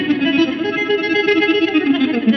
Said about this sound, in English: Working in conjunction with your electric guitar pickup, the EBow gives you an extended range of tones